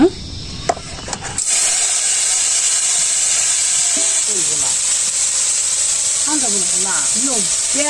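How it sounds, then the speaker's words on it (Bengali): Tomato pieces dropped into hot oil in a village kitchen, giving a steady, loud broadband sizzle that settles in after a brief clatter at the start, with faint speech and a few short tonal sounds behind it. "তেলের ভিতরে টমেটোটা দিয়ে দিন"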